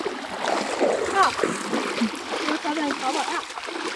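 Water splashes and sloshes at an outdoor bathing spot on the first swim of the year, steady and close, with people talking and calling out over the splashing throughout.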